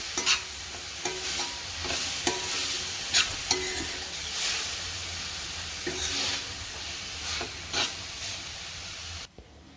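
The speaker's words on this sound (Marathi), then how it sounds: "दोन मिनटात आपलं पालक तयार होणार आहे तेलावरती असं चांगला मऊ होते" Spinach sautés in oil in a home kitchen pan for dal palak, a constant soft sizzle broken by regular clinks and scrapes of a spoon stirring, with no voices.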